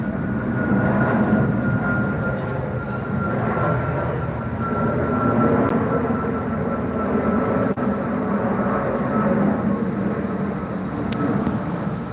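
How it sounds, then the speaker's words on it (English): An Airbus A350 airliner passes over London as a steady, broad roar. It stays loud and even throughout, with no speech. "That's the 350. Airbus A350."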